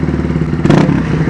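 A Honda CB125R motorcycle engine idling nearby with a close, steady, throbbing rumble and a brief rougher burst partway through.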